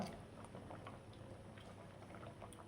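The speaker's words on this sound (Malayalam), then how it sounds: "അപ്പോൾ ഇതാ സാമ്പാർ നന്നായി തിളച്ച് വന്നിട്ടുണ്ട്" Sambar boiling in a pot on a home kitchen stove, a soft continuous bubbling with small pops and gurgles, quiet and close, with no talk over it.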